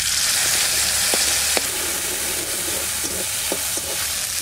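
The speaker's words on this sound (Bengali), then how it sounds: "এবার ফোড়ন দিয়ে দেবো, লঙ্কা আর জিরে, লঙ্কা আর জিরে বাটা।" A ground chili and cumin paste hits hot oil for tempering in a home kitchen, setting off a loud, continuous close-up sizzle and hiss with a few sharp spatters and scraping stirs.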